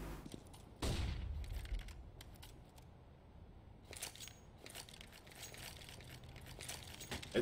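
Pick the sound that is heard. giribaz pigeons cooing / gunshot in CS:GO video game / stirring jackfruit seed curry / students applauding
gunshot in CS:GO video game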